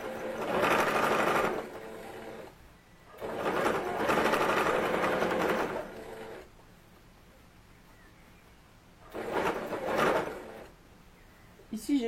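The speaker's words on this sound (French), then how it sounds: "Je vais venir faire une couture à quelques millimètres du bord." Sewing machine running a seam a few millimetres from the fabric edge of a ruffled dress, three steady whirring bursts of stitching with quiet pauses between, close and moderately soft.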